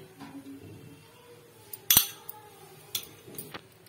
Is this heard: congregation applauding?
no